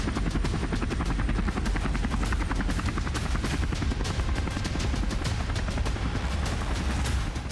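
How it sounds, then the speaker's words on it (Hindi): Russian helicopters firing at sea drones on the Black Sea, heard as a loud continuous rotor thrum with dense, rapid gunfire bursts layered throughout. "रूसी हेलीकॉप्टर लगातार फायरिंग करते रहे"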